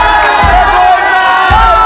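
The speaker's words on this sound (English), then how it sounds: "ATK Mohan Bagan fans are in loud voice." A large stadium crowd of ATK Mohan Bagan football fans roars and cheers loudly and continuously at an Indian Super League match, with distant whoops and shouts blending into a dense wall of noise.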